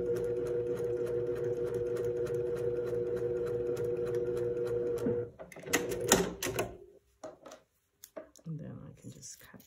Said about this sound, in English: that is where I'm sewing to